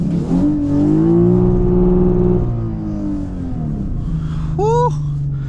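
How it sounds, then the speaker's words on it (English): A 2017 Lexus IS350 with full bolt-ons and a tune revs hard up close in a wintry setting, climbing to the rev limiter and holding briefly before falling back to a low idle, with a quick rising vocal whoop near the end. "Never get tired of that rev limiter."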